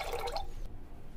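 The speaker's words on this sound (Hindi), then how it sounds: "थोड़ा सा ठंडा पानी" Cold water being poured into a glass while mixing a summer raw mango sharbat, a brief splashy pour at the start that quickly fades to quiet.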